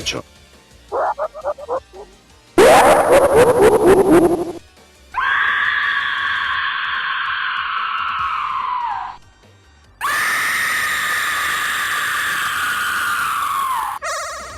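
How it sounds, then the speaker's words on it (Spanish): The victims' death scream from the 1988 film Slugs, reused in the game Sonic.exe: several long, loud, wailing shrieks come one after another, broken up by short squeaky chirps and a harsh rattling burst. "el grito que hacen sus víctimas al morir proviene de la película Slugs de 1988."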